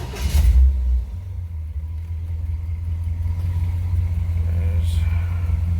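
A 1935 Chevy engine idles on a shop lift in a steady, low, close rumble that runs evenly throughout, after a brief louder thump at the start.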